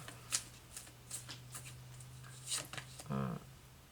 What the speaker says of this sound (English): I'm going to pick up the Archangel cards and see what